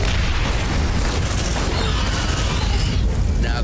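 A grenade explodes in Aliens: Dark Descent, a heavy booming blast within continuous loud rumbling chaos and crackling debris, sustained over several seconds.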